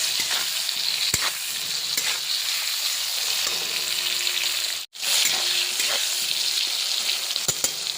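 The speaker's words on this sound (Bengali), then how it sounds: "এবার এটা ভাজা ভাজা হোক।" Eggplant with slit green chilies, turmeric and salt sizzling in a hot pan: a loud, continuous hiss with occasional scrapes of stirring and one brief break in the sound.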